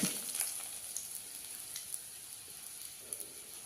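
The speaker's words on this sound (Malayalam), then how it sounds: "കടുകൊന്ന് പൊട്ടട്ടേട്ടാ" Mustard seeds crackle and pop in hot oil with a steady soft sizzle, scattered sharp pops rising over it, fairly close.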